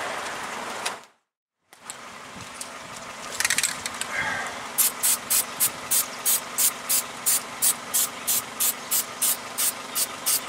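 Fluid Film lubricant from an aerosol can is sprayed onto a 2007 Nissan Altima brake hub in a long series of short, evenly spaced hissing bursts, close by, after some quiet handling noises.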